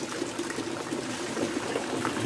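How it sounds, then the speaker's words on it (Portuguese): Rainwater pours steadily into a water tank in a backyard after heavy rains, a continuous close splashing and trickling wash with no break and no voices. "Essa aqui é a caixa onde está realmente caindo a água"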